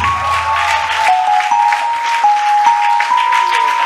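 An evangelical church congregation at Sunday prayer claps for God in steady, dense applause that keeps going throughout, overlaid by a sustained tonal voice or instrument line.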